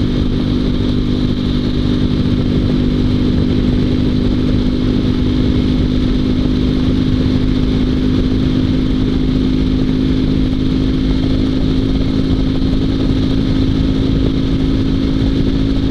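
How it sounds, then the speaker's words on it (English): A heavy sidecar motorcycle's 650cc engine rumbles steadily and loudly throughout, a deep constant drone with mechanical clatter, close by and with no speech. "This is a very heavy motorcycle, and I have just 650 cc motor on this motorcycle"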